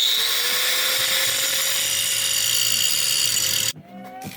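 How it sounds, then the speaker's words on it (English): A power tool trims an overlong exhaust manifold stud on a Nissan Skyline R33 during a turbo install. It runs as one loud, continuous high-pitched grind close by, then cuts off abruptly near the end, followed by light clatter. "So we're gonna trim that stud off."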